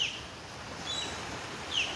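An osprey perched at a beach with a fish in its talons gives a few thin, high chirping calls, faint and brief against steady outdoor wind and surf noise.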